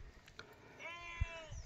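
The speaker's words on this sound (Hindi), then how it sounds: "तो आप सुन सकते हैं कुछ भेड़ों की आवाज़ें" Sheep bleating outdoors in a Himachali Gaddi herding setting, one wavering bleat in the middle against faint background noise, with a soft thump and distant murmurs around it.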